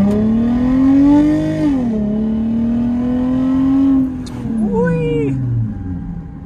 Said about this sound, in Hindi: लेकिन अभी हम इसका सिर्फ एग्जॉस्ट सुनते हैं।